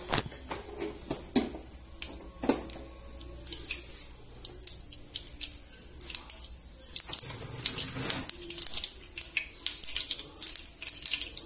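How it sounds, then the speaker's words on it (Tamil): Mustard seeds sputter in hot oil in a pan, giving irregular sharp crackles and pops, some clustered and some isolated, over a faint steady high whine, with no talking. "கடுகு வெடிக்கட்டும்."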